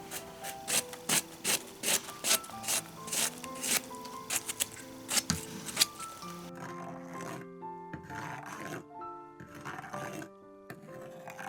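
Soybeans being ground for tofu pudding in a rural home kitchen, giving a loud, steady run of rhythmic rasping, rubbing strokes that carry on throughout, with tonal clatter and scraping mixed in.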